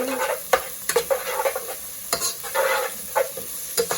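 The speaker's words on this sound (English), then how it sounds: "I'm going to add 2 cloves of garlic. And I'm adding this right when I know my onions are going to start browning." Garlic cloves and browning onions sizzle in a pan while a utensil stirs them, a loud close fry broken by repeated sharp scraping strokes.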